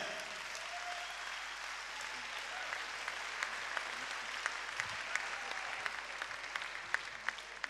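A concert audience applauds at an evening of songs: steady, dense clapping from a large crowd that continues for the whole stretch, with scattered sharper claps standing out.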